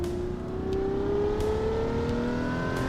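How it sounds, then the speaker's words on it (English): A Lamborghini SVJ in Assetto Corsa holds a steady, rising engine drone, the pitch climbing smoothly as it accelerates, close and fairly loud with no voices over it. "Here we have the Lamborghini SVJ"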